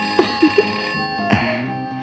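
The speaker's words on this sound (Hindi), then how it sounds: "फोन उठाइए ना।" A telephone rings in a dubbed action film scene, a loud bell-like ring with a few short repeated bursts, alone without talk.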